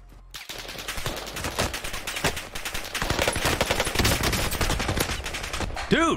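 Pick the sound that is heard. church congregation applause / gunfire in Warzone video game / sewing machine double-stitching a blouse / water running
gunfire in Warzone video game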